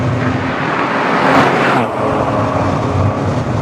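A Porsche 996 GT Club Sport accelerates hard on a banked oval track, its engine a loud, close, sustained roar that swells and shifts briefly mid-run before holding steady.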